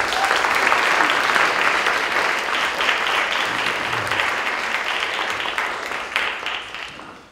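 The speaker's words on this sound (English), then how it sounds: "Let's give our sponsors a round of applause." A large audience at a 2016 MLK Week keynote event applauds sponsors: dense, steady clapping that holds loudly, then tapers off toward the end.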